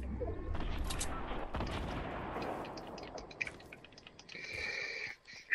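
Gunfire in a squad battle-royale video game sounds as a dense, rumbling burst of shots and impacts, followed by scattered sharper pops and clicks that fade out over several seconds.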